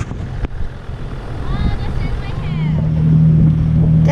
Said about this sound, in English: one of the good things about sand driving, you don't even need to hold the wheel